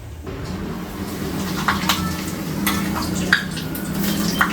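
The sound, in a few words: papad frying in a very hot kadhai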